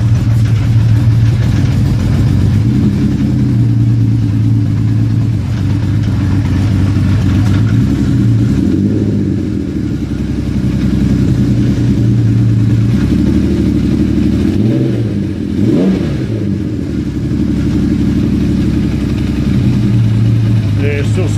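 A rebuilt Kawasaki Z1300 motorcycle engine runs loud and close, a deep steady idle broken by two throttle blips that rise and fall, with people talking over it.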